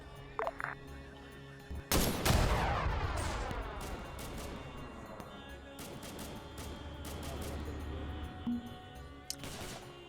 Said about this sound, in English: Good effect, mortars. We just saw one fly.